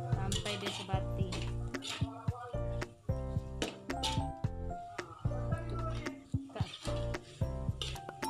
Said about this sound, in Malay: Kita gaul-gaul sampai dia sebati.